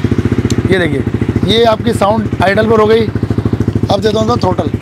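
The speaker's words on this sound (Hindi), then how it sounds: "एग्जॉस्ट की साउंड इसकी किस तरीके की आने वाली है, ये देखिए ये आपकी साउंड आइडल पर हो गई" A Yamaha R15 V4 motorcycle with an R9 full-system exhaust idles nearby, giving a steady rapid throbbing pulse that continues beneath someone talking.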